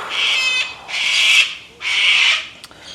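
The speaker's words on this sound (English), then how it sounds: "Thanks, birds." Three harsh, drawn-out squawking bird calls outdoors, each lasting about half a second with short pauses between, loud and fairly close, followed by a faint click.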